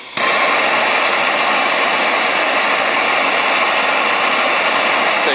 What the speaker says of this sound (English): we got the torch here again, and we're just going to work on heating up this ear right here